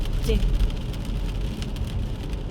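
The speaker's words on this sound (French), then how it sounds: "Vous entendez comment il pleut?" Steady rain patter in Belgium with a continuous broadband wash of falling water, fairly loud and close, with a faint low rumble underneath.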